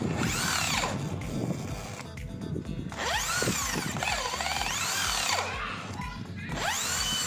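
A Maktec MT80B impact drill with a 19 mm auger bit bores into wood, whining and straining in loud bursts with rough knocking and rising and falling pitch, with brief pauses between runs.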